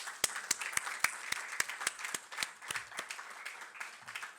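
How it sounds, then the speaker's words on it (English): Scattered clapping for aviation college graduates at a graduation ceremony, with sharp individual claps standing out over softer applause in a fairly quiet room. "Let's give them a round of applause."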